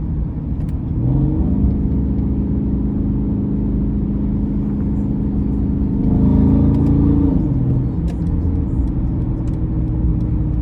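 A 2019 Mercedes-AMG C63 S tuned to Brabus 900 spec roars steadily from inside the cabin, its engine note swelling and blipping upward during downshifts, then settling back into a loud, continuous rumble with no talking.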